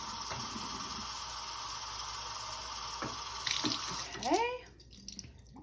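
Kitchen tap runs steadily, mixing hot and cold water, a loud continuous splashing stream that cuts off near the end, leaving faint drips and handling sounds.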